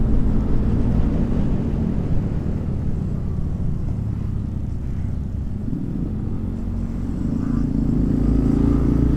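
A tuk-tuk fitted with a Hayabusa motorcycle engine rumbles steadily and loudly nearby on a night road, its low engine drone continuous throughout with a slight rise in revs toward the end.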